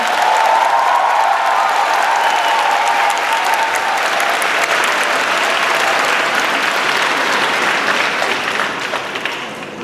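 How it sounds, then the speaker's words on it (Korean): A large crowd claps steadily for several seconds at a university student event welcoming a presidential candidate onstage, a dense and sustained round of applause that eases off slightly near the end. "큰 박수 부탁드립니다"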